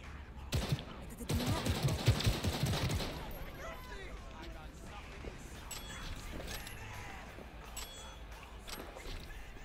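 Gunfire in the Cyberpunk video game: a quick burst of loud, rapid shots that lasts about two seconds, then fades into quieter background city ambience.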